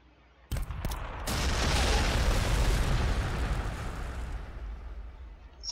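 Frag grenades exploding in the video game Warhammer 40,000: Sanctus Reach, a couple of quick sharp pops followed by a loud, sustained rumbling blast that slowly fades out.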